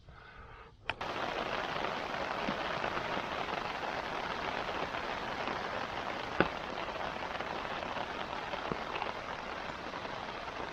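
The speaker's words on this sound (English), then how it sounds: "So yeah, the rain finally came." Steady rain drums on a camping tarp beside a river, a dense, even patter that begins abruptly after a brief quiet start and continues close and unbroken, with a few sharper drop hits standing out.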